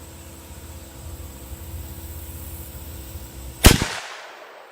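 A single sharp rifle shot from a rifle fitted with a Primary Arms SLx Hunter 4-12x50mm scope cracks out near the end, loud and close, ringing briefly before silence, after a stretch of steady outdoor background noise.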